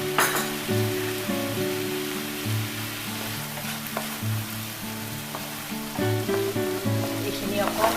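Masala and onions sizzle steadily in a pan for kofta curry, a continuous close frying hiss broken by repeated stirring scrapes.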